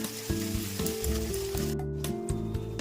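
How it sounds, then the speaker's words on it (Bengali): Ginger-garlic paste hits hot oil for dhaba-style chicken bharta, giving a close, loud, continuous sizzle with stirring throughout. "তেল আমার ভালো মতো গরম হয়ে গেছে। এইবারে আমি এই পেস্টটা দিয়ে দেবো।"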